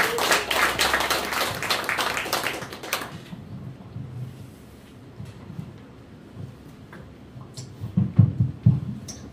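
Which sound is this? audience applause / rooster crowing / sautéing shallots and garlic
audience applause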